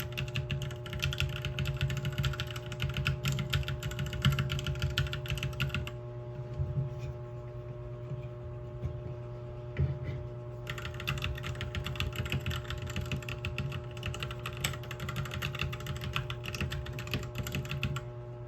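A modded mechanical keyboard is typed on steadily, a dense rapid patter of key clacks with a metallic clang, close-miked, briefly pausing midway before resuming, over a low constant hum.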